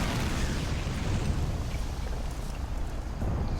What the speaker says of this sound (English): Howitzer position is opening fire on the tanks over here.